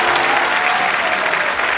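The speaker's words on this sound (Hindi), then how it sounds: "जोरदार तालियां एक बार।" A studio audience at a comedy talk show gives loud, sustained applause, a dense and even roar of clapping that fills the whole stretch with no talk heard over it.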